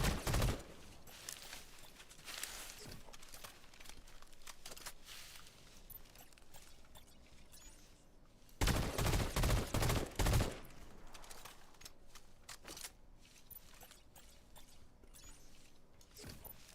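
Gunfire in the video game Fortnite: bursts of rapid shots and clattering fire, loudest at the start and in a dense volley midway, with scattered quieter shots and mechanical clicks between.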